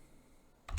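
Computer keyboard typing during CAD text entry, heard as a short burst of a few close clicks at the very end after near silence.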